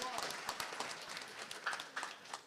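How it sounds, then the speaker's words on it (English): Conference audience applauding a licensed drone pilot, a scattered round of clapping with a few sharper close claps and a faint voice underneath, lasting a couple of seconds at moderate loudness. "Round of applause for this battle over here."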